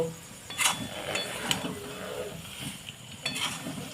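Melon seeds being stirred in a pan for laddu make a soft dry rustle and sizzle, punctuated by a few sharp clinks and scrapes of a utensil against the pan, close and fairly quiet.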